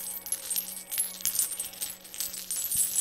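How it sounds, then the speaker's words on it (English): Small ornate dragon dice rattle and clatter together in a handful, a quick run of bright, close clicking impacts over about three seconds with no talk. "these beautiful dragon dice. Do you hear them? Don't they sound musical"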